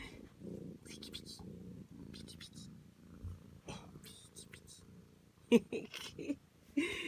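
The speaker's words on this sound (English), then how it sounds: "So my cat, he already trying to escape." A pet cat purrs softly and intermittently close by, a low rumbling purr under a person's quiet speech, with a few louder bumps toward the end.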